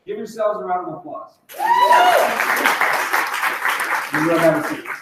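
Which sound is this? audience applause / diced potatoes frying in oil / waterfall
audience applause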